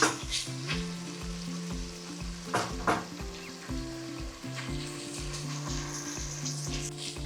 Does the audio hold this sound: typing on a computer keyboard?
no